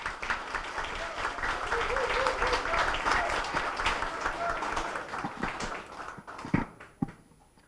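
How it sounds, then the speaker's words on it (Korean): Audience applause welcoming a candidate at a party leadership campaign rally in the Chungcheong region. Steady crowd clapping continues under voices, then thins into a few scattered claps near the end. "양경규 후보를 큰 박수로 모시겠습니다."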